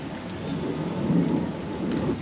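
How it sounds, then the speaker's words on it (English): Heavy rain pours down steadily, and a low roll of thunder swells in the middle, loud and enveloping, with no voices. "but it's raining"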